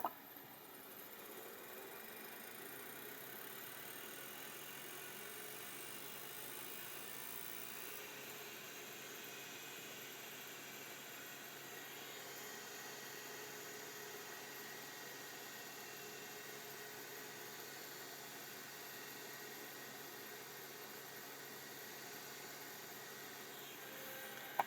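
An early Seagate ST225 hard drive spins steadily without seeking, a constant faint whirring hum with broadband hiss that holds evenly throughout, no clicks or talk.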